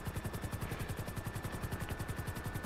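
Valkyrie military helicopter in GTA V Online, its rotor producing a loud, steady, rapid rhythmic chop throughout with no one talking.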